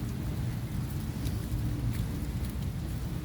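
Steady morning rain hisses outdoors in a park with a deep, rumbling low wash underneath, constant and fairly loud with no voices.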